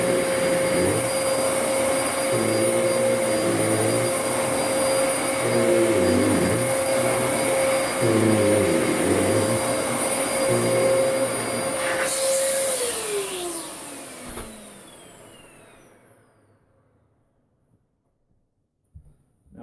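A Dyson vacuum cleaner cleaning an entryway mat runs with a loud, steady whine and a rhythmic lower churn as it passes back and forth, then switches off and winds down into near silence.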